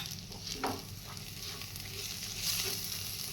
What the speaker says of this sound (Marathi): मसाला आपला आता छान परतून झाला आहे